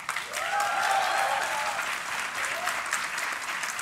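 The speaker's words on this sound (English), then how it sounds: "From the applause Rishikesh has received, he is clearly a very popular student" Warm, steady applause from the audience at a university convocation greets a best-thesis award winner, filling a few seconds before easing slightly toward the end, with a faint voice underneath.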